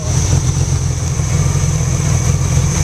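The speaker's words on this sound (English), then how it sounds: "it's been running for a while, and it's still idling the same way it was before" Honda Goldwing motorcycle engine with a single-carburetor conversion idling, a loud, close, steady low rumble with an even hum and no revving.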